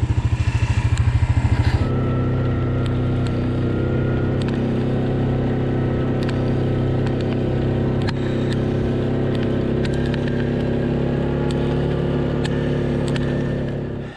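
A quad bike drives across a clay field during a cold, heavy rain shower. Its engine drones steadily and close up with some rattling clatter, and the throttle note settles after the first couple of seconds.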